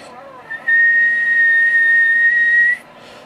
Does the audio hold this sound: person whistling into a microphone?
yes